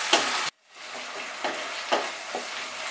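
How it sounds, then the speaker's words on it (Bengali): Ginger, garlic and green chilli paste fries in hot oil in a pan for a Bengali aar fish curry, giving a steady close sizzle with a few scraping stirs and a brief sharp cut near the start. "আদা, রসুন, কাঁচা লঙ্কা বাটা দেওয়ার পরে এটাকে 1 মিনিট ফ্রাই করলাম"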